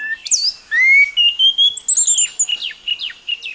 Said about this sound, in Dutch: Een meesterzanger is ongetwijfeld deze jodelende fluiter. Het is een shama-lijster.